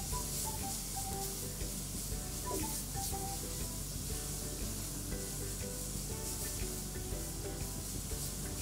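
Steady, loud sizzling of fish frying with spices in a pan for a Bengali aar fish curry, continuous hissing and crackle with occasional stirring scrapes and no voices.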